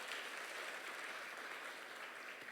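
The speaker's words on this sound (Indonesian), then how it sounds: "Tepuk tangan bagi Tuhan Yesus." A church congregation applauds during a service, steady dense clapping filling the space from start to finish at moderate loudness, with no voices standing out.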